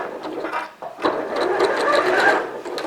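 Sewing machine stitching around the neckline of a tie bow blouse, a close steady mechanical whirr with rapid needle ticking that briefly stops and then runs continuously.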